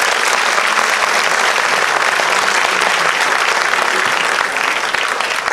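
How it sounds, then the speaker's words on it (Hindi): A book launch audience claps loudly and close, a dense, even wash of applause that runs throughout and eases a little near the end. "भाई अब तो तालियां बनती हैं जरूर।"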